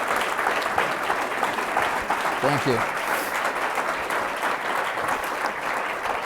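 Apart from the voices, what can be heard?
audience applause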